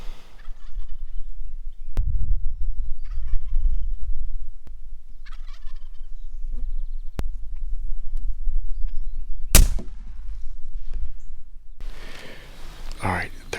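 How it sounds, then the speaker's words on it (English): A wild Rio turkey gobbles from its roost in Kansas turkey country, with distant rattling calls standing out over low rumble and outdoor noise, while people whisper nearby and a few sharp clicks and snaps cut in. "We have a turkey on the roost gobbling"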